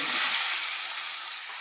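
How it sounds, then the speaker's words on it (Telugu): Onions and whole spices frying in a pan give a steady, close hiss of oil that eases off slightly over a short stretch, with no voices. "మసాలా దినుసులు అవి కొంచెం వేసుకున్నామండి ఉల్లిపాయలు వేసుకున్నాం"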